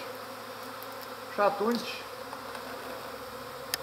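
A secondary honeybee swarm hums in a low, steady drone during swarm capture, heard briefly under a man's spoken words.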